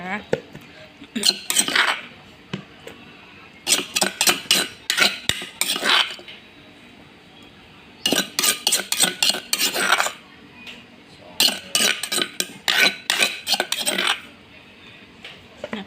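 A metal spoon scoops steamed herb tilapia into a dish, with repeated bursts of sharp clinks and scrapes against cutlery and crockery in clusters separated by short pauses.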